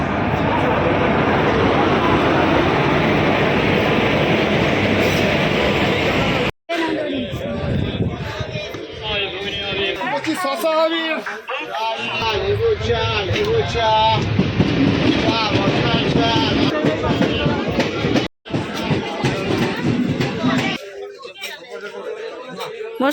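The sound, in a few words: Howrah Azimganj Gorakhpur Express train arriving at platform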